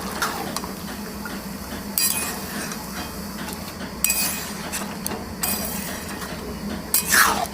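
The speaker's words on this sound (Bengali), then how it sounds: "এবার একটু ভালো করে আমরা নেড়ে নেব।" A spoon scrapes and clinks against a cooking pot while stirring chicken ghugni with boiled peas and potatoes, in irregular metallic bursts over a soft background hiss.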